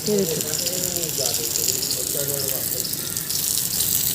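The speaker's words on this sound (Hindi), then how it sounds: "बाहर गली में पानी लगा रही हैं" Water splashes out onto a street outside a house, a continuous hissing gush, fairly close and steady, with faint voices in the background.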